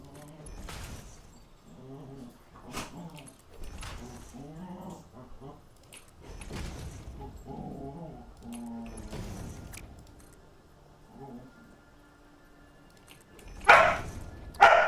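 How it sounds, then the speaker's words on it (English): A dog growls in low, rumbling bursts spread across the stretch, close by and moderately loud. Near the end come a couple of sharp, louder barks. "You hear those growls from her compared to earlier?"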